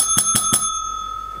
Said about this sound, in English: The referee rings the bell,